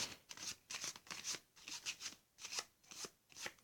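A deck of playing cards shuffled by hand for a card trick, about ten quick papery riffles and snaps in a steady rhythm, close up and quiet with no speech.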